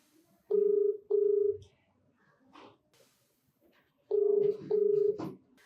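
Telephone touch-tone keypad dialing a call, with two pairs of steady beeps separated by a pause and faint background sounds in between.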